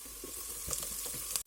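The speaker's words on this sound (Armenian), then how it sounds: "Սկզբում ձիթայուղի մեջ տապակում եմ սոխը տապակում եմ մինչև թափանցիկ դառնալու" Chopped onion frying in olive oil for a sorrel and borscht-style soup, a steady close hiss and sizzle with faint crackles and a couple of brief spatters, no talk.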